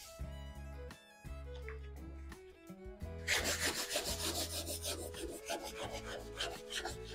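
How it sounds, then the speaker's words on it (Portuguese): A small wooden table being sanded by hand, with quick rhythmic rasping strokes that begin partway through and continue steadily, close by, over soft background music. "eu já vou lixar a outra também"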